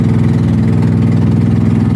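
A motorboat engine runs close by on an island, a steady, throbbing low rumble, loud and continuous throughout.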